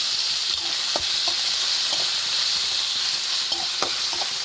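Tomatoes fry in oil in a curry pan, giving a dense, even sizzle. Sharp stirring clicks from a spoon against the pan come at irregular intervals.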